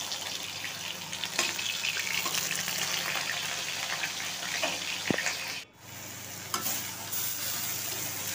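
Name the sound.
okra and potatoes frying in a pan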